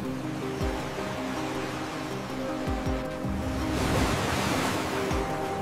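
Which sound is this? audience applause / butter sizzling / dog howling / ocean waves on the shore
ocean waves on the shore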